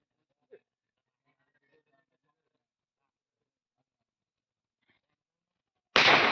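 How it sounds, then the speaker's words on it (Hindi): A firecracker bursts once near the end, a sharp loud broadband bang outdoors by a river during a Bhil tribal Diwali rooster sacrifice, after long near-silence with a faint earlier click. "ये पटाखा फूट लिया।"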